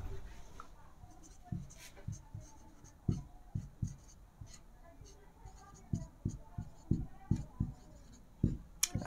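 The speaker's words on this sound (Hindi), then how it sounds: "रुक जाओ, लिख रहे हैं।" Chalk or marker writing on a classroom board during a Hindi-language lesson on intelligence theory: a string of short, faint scratchy strokes in irregular rhythm, quiet and close, with soft room noise between.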